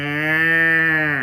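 A person's voice imitates a cow mooing, one long sustained low moo that swells and then trails off, close and loud with no other sound.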